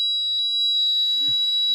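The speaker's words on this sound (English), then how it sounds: "Is that the fire alarm? It's my smoke alarm, smoke detector." A home smoke alarm emits a loud, continuous high-pitched electronic tone, with a brief low voice murmuring near the end.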